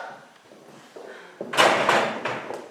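An apartment door on a third-floor landing is opened: after a quiet start, a few close clunks and rattles of the handle and latch are followed by a louder rushing swing of the door, with nobody talking.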